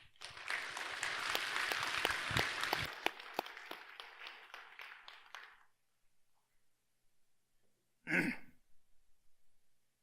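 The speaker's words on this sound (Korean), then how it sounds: "큰 박수로 모시겠습니다." Audience applause welcomes a presenter at a Buddhist academic paper presentation, a dense burst of clapping that fades out after about five seconds, then a short rustle or cough.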